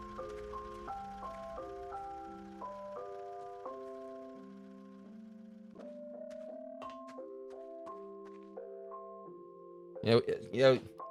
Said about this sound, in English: It's always an ice cream truck.